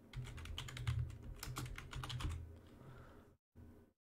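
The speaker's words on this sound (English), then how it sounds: "go to the search bar and type in control panel" Fast typing on a computer keyboard, a dense close run of light key clicks that stops abruptly, followed by a brief final tap.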